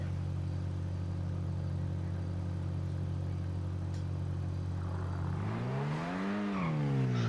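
Grotti Itali GTO sports car engine in the GTA Online video game, a steady idling drone that swells into a rising rev and falls back near the end, with no talk over it.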